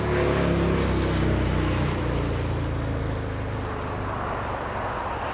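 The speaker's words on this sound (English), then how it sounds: "It was cleared for takeoff, right? That's what I heard, and yes, it's on the move. It's on the roll." Alaska Airlines jet, a 2001-built aircraft bound for Seattle, on its takeoff roll at LAX: a loud, steady broadband engine roar that holds strong throughout and eases slightly toward the end, with no voices.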